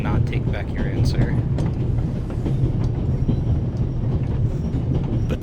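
The Orient Express train running in The Raven Remastered video game, a continuous heavy rumble with faint rhythmic rattling, steady and fairly loud throughout.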